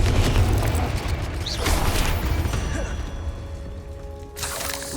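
Blasting spells in Hogwarts Legacy, Bombarda and Confringo, go off in a rapid run of heavy booming impacts and whooshes, loud and continuous, with a voice calling out incantations over them.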